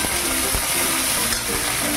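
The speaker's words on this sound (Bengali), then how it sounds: "এবার দিয়ে দেবো আমি রসুন বাটা" Garlic paste frying in hot oil, a loud, close, continuous sizzling hiss that holds steady throughout with no voices.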